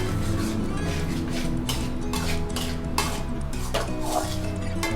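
Vegetables in tomato and Schezwan sauce are stirred in a pan for prawn noodles, with repeated clanking of a utensil against the pan over a low bubbling background and brief clinks.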